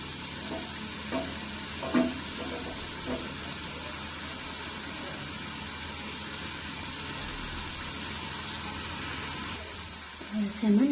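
Salmon pieces sizzle and fry steadily in a pan while being tempered, with soft stirring knocks and an occasional utensil clink over the continuous crackle; a voice speaks briefly at times.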